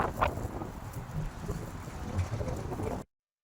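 Steady rushing wind in Iskenderun, Turkey, buffets the microphone in a constant, roaring blur, with a faint bird call briefly audible early on.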